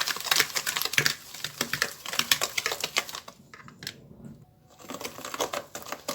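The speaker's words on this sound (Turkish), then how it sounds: "Yumurtamla şekerimi çırptım" Eggs and sugar whisked in a bowl for a fruit cake, a fast steady clatter of the whisk against the bowl, close and moderately loud, with a brief pause partway through before it resumes.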